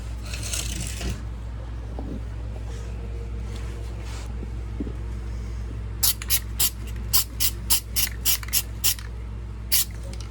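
Worth textured stone guard is sprayed onto a Porsche 914 body, with one hissing spray burst at first, then a rapid series of short, sharp spitting bursts over a low steady hum.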